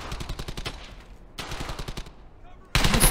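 Rapid automatic gunfire rattles in quick repeated bursts as desks are shot at in the video game Hell's Highway. The shots are loud and close, with short gaps between volleys and a harsher final burst.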